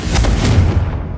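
The Confringo explosive spell in Hogwarts Legacy detonates as a loud, close, booming burst with a couple of quick pops and a deep rumbling roar that fades quickly.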